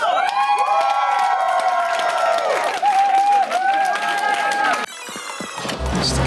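An audience cheers and applauds loudly as ten police officers step onto a stage, a dense sustained roar with whoops and shouts that continues for several seconds before dropping to a quieter murmur with voices.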